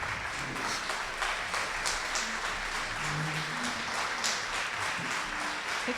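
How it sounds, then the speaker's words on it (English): An audience at an indoor gathering applauds with steady, sustained clapping from many hands at moderate volume, continuing throughout with no speech. "let's give him a big round of applause"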